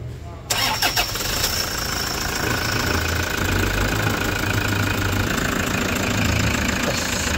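A Toyota Hiace engine cranks and catches after a brief silence, then settles into a steady, loud idle that runs continuously close by after its transmission fluid change and timing belt replacement.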